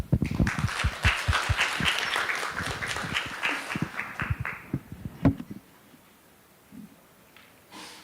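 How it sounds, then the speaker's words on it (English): Symposium audience giving a short round of applause, loud close clapping that thins out and stops after about five seconds, leaving quiet room tone with a few stray sounds. "Please give him a warm round of applause."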